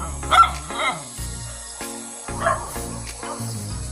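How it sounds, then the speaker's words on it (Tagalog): A dog barks repeatedly in short bursts over a steady musical background, with a few sharp yips spread across the clip. "Huwag kang tumahol dyan. Ang ingay mo."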